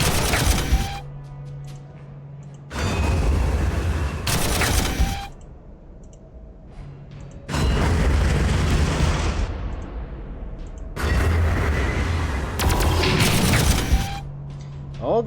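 Gunfire in a Warhammer battle game, coming in several long, heavy bursts of sustained firing a few seconds each, separated by quieter stretches of background rumble.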